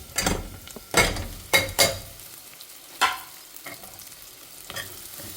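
Dry broken wheat scraped and stirred around a pan in a few distinct strokes as it roasts, with a faint sizzle underneath and pauses between the stirs.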